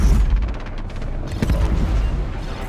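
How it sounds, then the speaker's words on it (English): Missiles launch at a bot in the space combat game EVE: Valkyrie, a burst of loud, booming thumps with rapid rumbling blasts layered over a dense, continuous low roar of game audio. "So I'm going to try to get up close to this bot before I fire my missiles"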